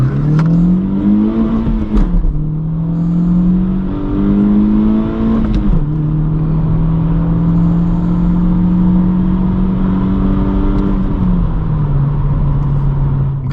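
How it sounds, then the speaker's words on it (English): Induction roar from a 2022-2024 Honda Civic 2.0 with a modified OEM airbox, driving: a loud, steady engine drone climbing in pitch through gear pulls, with brief shift dips near two, six and eleven seconds, no talk. "I did not expect this mod to make this big of a difference in the induction noise"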